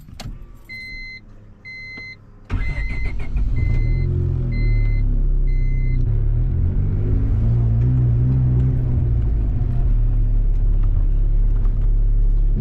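A turbocharged Honda Civic with a D16 engine starts up after a few chime beeps. It settles into a loud, steady, rumbling idle heard close and alone.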